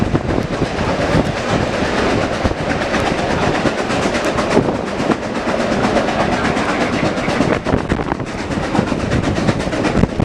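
Reading & Northern steam locomotive #2102 and its passenger train roll by close and loud, with a continuous rumble and rhythmic clatter of wheels on rails throughout.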